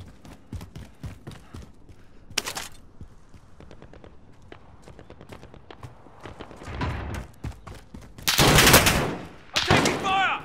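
Gunfire in the video game Call of Duty Modern Warfare: scattered close shots and brief bursts amid footsteps, with louder dense bursts near the end.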